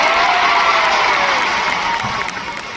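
A live concert audience cheers and applauds continuously as a dense, loud roar of clapping and voices, steady throughout and fading slightly toward the end.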